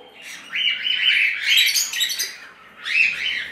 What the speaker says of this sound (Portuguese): Casal de agapornis lutino